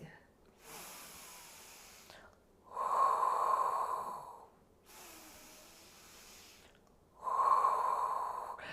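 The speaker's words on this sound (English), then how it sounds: "So it's inhale for 2, exhale for 2." Slow, deliberate breaths during a beginner Pilates workout, with two long audible exhales pushed out forcefully through the mouth, separated by quieter inhales, close to the microphone.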